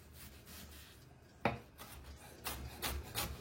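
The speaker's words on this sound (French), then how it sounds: "on va couper notre échalote" A knife taps and scrapes on a wooden board while finely chopping a shallot, a few quick strokes and rubbing sounds, quiet and close.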